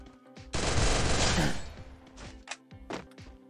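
A loud burst of rapid gunfire in the Free Fire video game, followed by a few scattered single shots and thumps over quiet background music.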